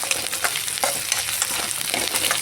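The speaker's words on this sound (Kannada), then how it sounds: "ನೋಡಿ, ನಾನು ಸ್ವಲ್ಪ ಏಲಕ್ಕಿ, ಚಕ್ಕೆ, ಲವಂಗ, ಕಾಳು ಮೆಣಸೆಲ್ಲ ಫ್ರೈ ಮಾಡ್ತಿದ್ದೀನಿ" Cardamom, cinnamon, cloves and peppercorns frying in a pan for a village-style chicken sambar, a bright, busy crackling sizzle heard close and fairly loud, with small spattering pops throughout.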